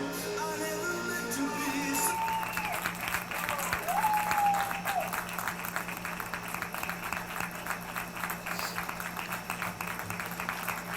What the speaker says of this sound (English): Everybody clapping out there.